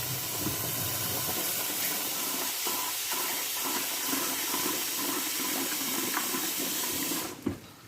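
Rice being rinsed under running tap water in a home kitchen, a steady hissing stream of water splashing into a pot for several seconds before cutting off abruptly near the end.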